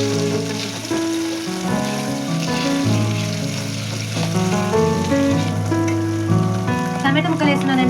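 Ginger paste fries with onions in a pan for an egg curry, giving a continuous crackling sizzle under prominent background music.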